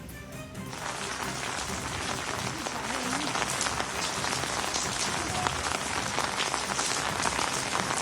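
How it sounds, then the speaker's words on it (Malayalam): Heavy rain falling at an outdoor reporting location in Wayanad, a dense steady hiss of drops hitting surfaces, loud and continuous throughout with no talk. "അവിടെ നല്ല മഴയുണ്ടോ"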